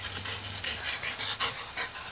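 A female dog pants in quick, rhythmic huffs close to the microphone, a steady breathy series of short bursts with no talk over it.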